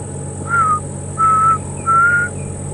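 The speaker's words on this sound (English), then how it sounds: "in the background I can also hear one of the other cuckoos who's come back." African black cuckoo calling in a game reserve, three clear, mournful whistled notes spaced evenly over a steady background hum, moderately near and alone.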